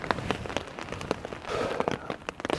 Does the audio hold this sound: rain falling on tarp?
yes